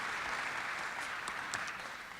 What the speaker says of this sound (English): please give a round of applause for the presenters